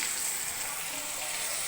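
Soy sauce hits a hot pan during the cooking of Filipino pakbet, pork and onions already sautéed, giving a steady, moderately loud hiss and crackle that holds evenly throughout.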